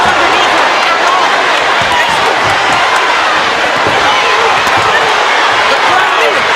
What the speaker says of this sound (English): The crowd is going wild here in Flint.